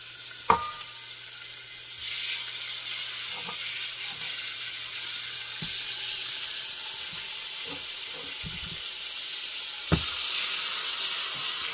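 Oxtail sizzles and fries steadily in a pan on a stove at medium heat, a loud even hiss broken by a few knocks and clinks of pieces being moved and added.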